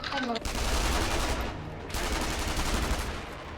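Gunfire in the video game Sniper Elite 2, heavy sustained bursts of shots that fill the whole stretch, loud and dense with only a brief dip in the middle.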